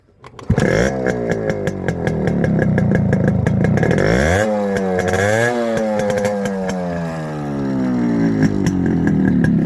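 Restored Yamaha RX100 motorcycle engine started and revved hard, its two-stroke note sweeping up and down in loud, rising and falling bursts that fill the whole clip, with no talk over it.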